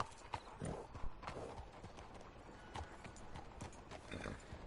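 Horse hooves clip-clop in an irregular, busy patter in the video game Red Dead Redemption 2, horses moving close by, with soft rustling in the background and no talking.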